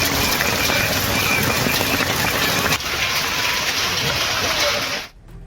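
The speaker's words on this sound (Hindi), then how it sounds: "उत्तर प्रदेश में तो पानी के साथ ओले भी गिर रहे हैं।" Hail and rain fall together in a steady, loud, dense patter with a constant wash that continues unbroken before cutting off abruptly near the end.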